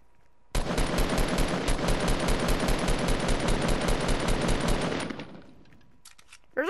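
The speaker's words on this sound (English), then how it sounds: "We're getting shot at from like all angles" Rapid automatic gunfire in the video game Fortnite, a dense, loud burst of shots firing continuously for several seconds before cutting off and fading into a brief echo.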